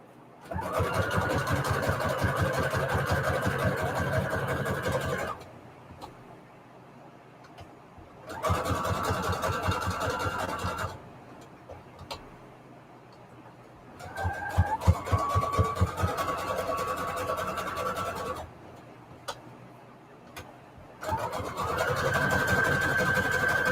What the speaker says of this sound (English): I've just been using a zigzag stitch to close these up